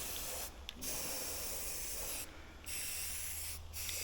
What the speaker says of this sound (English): I'm just gonna go ahead and shoot some primer. And this is self-etching primer